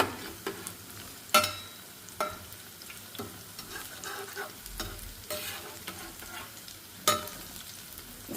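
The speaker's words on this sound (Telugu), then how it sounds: "గారెలు అయితే చక్కగా వేగుతున్నాయి అన్నీ" Garelu, lentil fritters, fry in hot oil with a steady soft sizzle, broken by several sharp louder crackles and clatters as they are stirred or turned.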